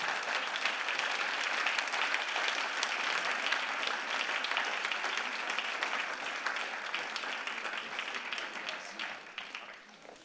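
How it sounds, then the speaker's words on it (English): An audience at a symposium applauds to welcome speakers to the stage, a dense, steady wash of many hands clapping that carries on throughout and fades slightly at the very end. "you can welcome them with an applause"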